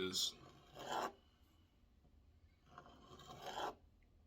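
Close, soft rasping scrapes of a paring knife on avocado skin, two short passes, a pause, then a longer one, quiet and dry.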